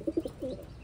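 Large male auction racing pigeon giving a short, soft coo, a few low throaty pulses followed by a longer rolling note, close and quiet.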